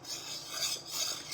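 Strawberry jam boiling in a pot while being stirred, a steady close scraping and rasping of the spoon against the pan, rising and falling in continuous strokes with no talking.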